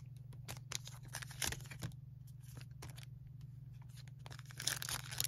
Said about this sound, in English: Keep ripping though.